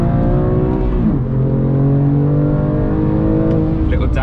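A BMW M2 Competition on Michelin Cup 2 Connect tyres accelerates hard out of a corner on a race track, its engine note loud and close, dipping briefly then climbing steadily through the revs with a constant in-car roar.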